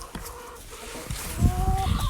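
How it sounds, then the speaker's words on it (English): Backyard hens cluck softly in a garden run, a low burst of fowl chatter rising near the end with a couple of drawn-out tonal calls, close by and alone. "So these are the lovely little hens that lay your eggs"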